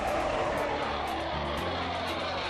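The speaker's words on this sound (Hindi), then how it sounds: "आसमान में हिंदुस्तान के लड़ाकू विमानों की हुंकार" Indian Air Force fighter jets roar overhead in a continuous, dense, loud rushing drone with no voices, the broadband engine noise steady throughout.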